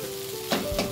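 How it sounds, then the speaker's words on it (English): Mutton for a pepper fry cooks in a pan over a low flame with a soft, even sizzle and two brief louder stirring bursts near the end. "The mutton has been cooking for the past 10 minutes on a low flame."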